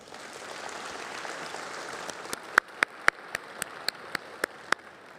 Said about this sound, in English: Please give your board a round of applause.